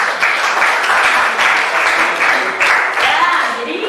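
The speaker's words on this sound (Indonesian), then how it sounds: "oke, tepuk tangan buat Desma" Students in a classroom applaud a classmate, loud, close, continuous clapping from many hands lasting a few seconds, with some talking blended in.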